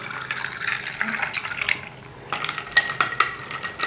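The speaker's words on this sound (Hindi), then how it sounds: "पानी डाल दे।" Water poured into a pineapple juice sharbat in a kitchen, a close, continuous splashing trickle with some clinking, brief pause in the middle, then resuming more brightly.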